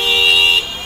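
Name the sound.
vehicle horns honking in traffic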